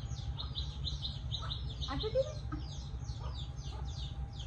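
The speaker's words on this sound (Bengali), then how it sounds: "আর এই মুরগিটা আছে, আর কয়েকটা মনে বাচ্চা আছে না।" Chickens at a rural family home cluck and chirp in short bursts across the yard, with a hen's call rising briefly midway over steady low background hum and outdoor ambience.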